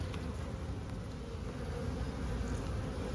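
Honey bees drone steadily and thickly around an opened hive of medium frames during an inspection of a swarm and troubled hives, a dense, continuous close buzzing with no voices.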